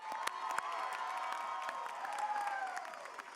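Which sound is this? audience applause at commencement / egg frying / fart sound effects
audience applause at commencement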